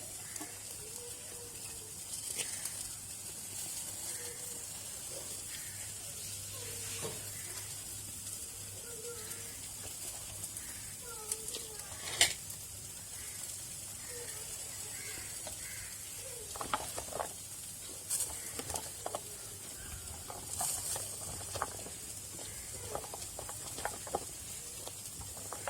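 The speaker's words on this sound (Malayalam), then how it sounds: "കർമൂസ അരിഞ്ഞ് വെച്ച കർമൂസയും തക്കാളി പച്ചമുളകും ചട്ടിയിലേക്ക് ഇടാൻ പോകട്ടോ" Chopped kamrakh (star fruit), tomato and green chilli sizzle quietly in a hot pan, a soft continuous frying hiss dotted with scattered crackles and small pops throughout.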